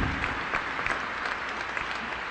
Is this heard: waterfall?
no